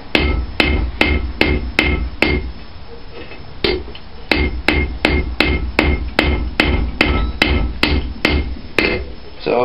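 Hot steel is hammered on an anvil while forging a diagonal hot set, ringing in a regular series of sharp, loud, close strikes with one short pause midway.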